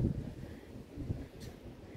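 Gusty wind at the Peak Tower viewpoint blows across the microphone, a soft, low rumble with a stronger buffet at the start and a lighter one about a second later.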